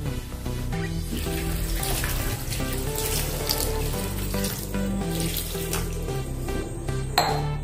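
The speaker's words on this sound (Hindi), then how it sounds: "अब इसमें हम थोड़ा सा पानी डालेंगे।" Water pouring into a pan of mixed vegetable pulao, a steady splashing rush that runs loud and unbroken, with no talking.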